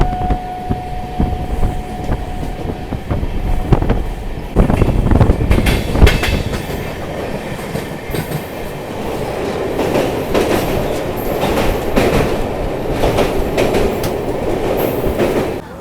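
An LHB-coach passenger train, the Ganga Sagar Express, runs on rails with a loud, close rumble, rhythmic clickety-clack of wheels over joints and a thin early whine, steady throughout with no talk.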